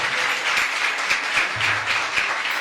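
Congregation at a church worship service claps loudly together, sustained dense applause with a slightly rhythmic pulse throughout.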